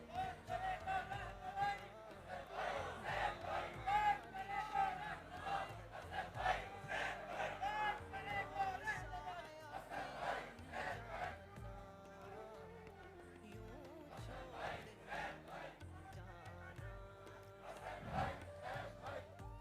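A large crowd at a religious gathering shouts slogans in unison, answering in loud rhythmic bursts of chanting that swell and ease across the clip, heard from a little distance.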